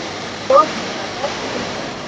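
A continuous, even roar of falling water from the Veer perennial waterfall in Konkan fills the air, with a brief voice cutting in near the start.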